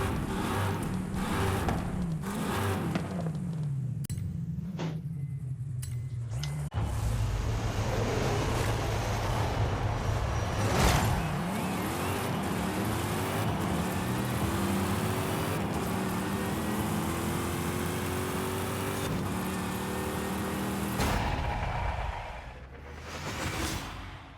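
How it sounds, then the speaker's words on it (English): A 1960s Plymouth Belvedere V8 making nearly 800 horsepower in the racing game Forza Horizon 5, engine revving and rising through gears with whooshing shifts, loud and close, dropping off near the end. "Pumping out nearly 800 horsepower in an engine from the 1960s."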